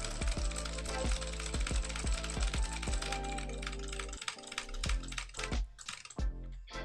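Fast typing on a mechanical keyboard with clicky Razer Green switches, a rapid run of sharp, close keystrokes heard alone, then a brief pause and a few scattered clicks near the end.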